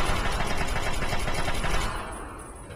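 Rapid assault rifle fire in Fallout 3, a dense rattling burst of automatic shots close and loud for about two seconds, then dropping away to quieter background.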